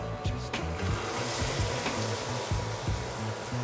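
Green peas stirred into spice masala frying in a pan for Kolkata street-style ghugni, giving a steady close sizzle with scraping stirring strokes throughout, no voices.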